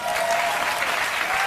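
Audience clapping in response to a call for feminists at a talk, a dense, steady wash of many hands sustained throughout, fairly loud and close, with no voices over it.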